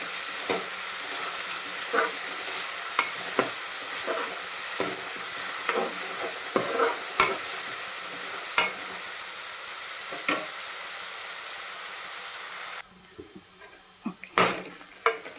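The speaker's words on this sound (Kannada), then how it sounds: "ಮತ್ತು ಫ್ರೈ ಮಾಡ್ತಾಯಿದ್ದೀನಿ." Brinjal masala ingredients, including coriander and mint leaves, sizzle steadily in a hot pan while a spatula scrapes and stirs at intervals, producing sharp periodic clacks over constant frying hiss that drops away near the end.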